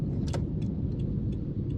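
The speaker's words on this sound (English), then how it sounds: "There's just been a big sewage truck go past." Low rumbling road noise from a big sewage truck driving past, steady and close, with faint light metallic jingles on top.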